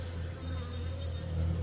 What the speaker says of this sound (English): look at that, there's a bee there.